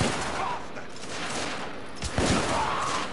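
Gunfire in The Order: 1886, a dense burst of shots under background game sound with a sharp louder crack near the end, as a voice exclaims afterward.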